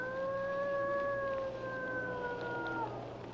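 A lone wolf howls at night in a forest setting, a long sustained wavering howl with a slowly falling pitch, moderately near and clear above a faint low background hum, with no talking.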